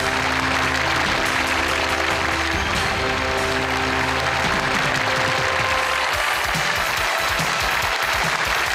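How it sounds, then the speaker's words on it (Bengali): Applause from a studio audience at a televised Eid variety show, welcoming a singer onto the stage. The clapping is dense and steady, then thins out near the end. "তার জন্য করতালি।"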